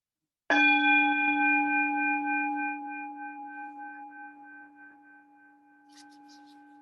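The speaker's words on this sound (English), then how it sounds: "when you hear the gong struck, just let go completely" A single gong strike during a meditation session rings out once and then decays slowly, its resonant tones fading over several seconds into near silence.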